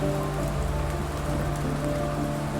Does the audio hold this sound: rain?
yes